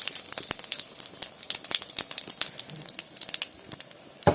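Spice mix and dried red chillies crackle and sizzle in hot oil in a pan, a steady close frying hiss dotted with sharp popping spits, with no voices.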